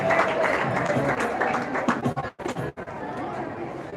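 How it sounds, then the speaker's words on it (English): Crowd applause and cheering at a Heritage Day event, sustained and fairly loud with chatter mixed in, briefly dropping out twice before resuming steadily. "Let's keep the applause going."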